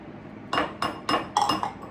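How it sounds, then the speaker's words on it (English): A utensil knocks against a bowl while stirring a chocolate caramel oatmeal bar mixture, five quick close clinks in an uneven rhythm. "So I'm going to keep stirring until it's incorporated."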